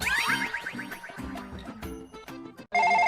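A mobile phone rings with a patterned electronic ringtone during a comedy skit, close and fairly loud, with the tone turning steadier and brighter near the end. No one speaks.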